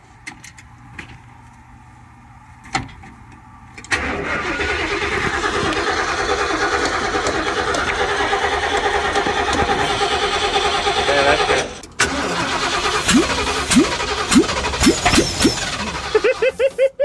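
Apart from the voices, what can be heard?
car engine starting and running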